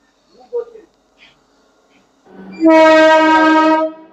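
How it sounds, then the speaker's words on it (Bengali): A WAG-12 electric freight locomotive sounds its horn: a loud sustained two-tone blast of about a second and a half after a few faint scattered noises. "ভারতের সব থেকে পাওয়ারফুল লোকোমোটিভ, শুধু ভারত নয়, বিশ্বের সব থেকে পাওয়ারফুল লোকোমোটিভ WAG-12 বাস হচ্ছে"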